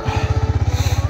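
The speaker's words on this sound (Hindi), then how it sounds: "वॉश के बाद अब करते हैं अपनी बाइक को ज़रा स्टार्ट थोड़ा सा" A 2024 Yamaha MT-15 motorcycle engine running just after starting, close and loud with a fast, even throbbing pulse.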